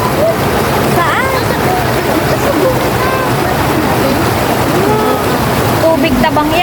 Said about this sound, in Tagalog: Ang lakas ng lagaslas ng tubig.